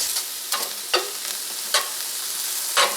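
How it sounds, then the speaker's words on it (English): Green onions go into ground turkey frying in a skillet, giving a continuous close sizzle broken by several scraping stirs of the pan. "I'm going to go ahead and add my green onions at this point."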